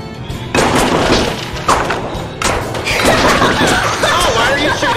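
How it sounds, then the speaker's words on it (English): Minigun gunfire in the video game Scribblenauts, loud, dense bursts of rapid shots and thuds that start and stop several times, with voices mixed in. "Shooting me. They have a minigun."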